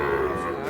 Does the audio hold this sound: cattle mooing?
yes